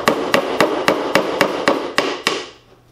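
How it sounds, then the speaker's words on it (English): A regular hammer drives small nails into a wooden board for string art, about ten sharp, evenly spaced strikes in quick succession, loud and close, ending with a short fading ring. "finish nailing in the last 3 nails. This is just a regular hammer."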